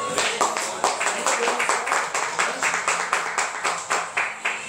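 A church congregation claps in a quick, steady rhythm at a healing service, the sharp beats packed close together and running the whole time, with voices carrying underneath.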